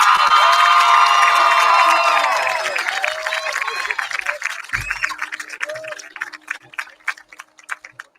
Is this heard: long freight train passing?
no